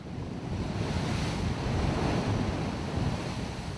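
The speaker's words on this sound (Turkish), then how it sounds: "Şiddetli fırtınanın etkisiyle oluşan dalgalar zaman zaman sahil kesiminde bulunan ev ve iş yerlerinin boyunu aştı" Storm waves crash on the shore at Bodrum in gale-force wind, a loud, continuous roar of surf and gusting wind with no voices.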